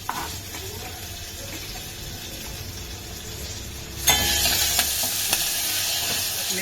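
Chillies and heaps of tomato sizzle and crackle in a hot pan while being stirred, a steady frying hiss that suddenly grows louder and brighter partway through.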